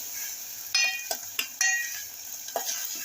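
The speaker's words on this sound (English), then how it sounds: "So I'm stirring it so that it can cook very well." Tomatoes and garlic are stirred in a pan as they cook, with a few brisk scraping and clinking utensil strokes over a soft, continuous sizzle.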